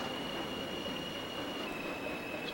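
A subway train runs on the 5 line toward Nereid in the OpenBVE train simulator, a steady, loud rumble with a thin high wheel squeal throughout and no talk.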